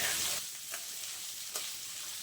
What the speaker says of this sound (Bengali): এখন আমি ছোলাগুলো দিয়ে দিচ্ছি। একটু নাড়াচাড়া করে নিচ্ছি।